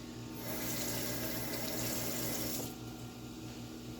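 A kitchen tap runs for a few seconds to measure water for an egg wash, a steady close hiss of flowing water that eases off near the end.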